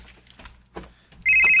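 A cellphone suddenly starts ringing with a loud, sustained electronic tone after a few soft household noises, during preparations for a Noche Buena meal.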